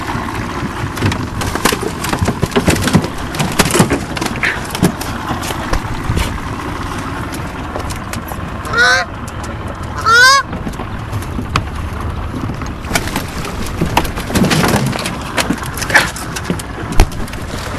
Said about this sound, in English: God almighty. Crazy ass goose.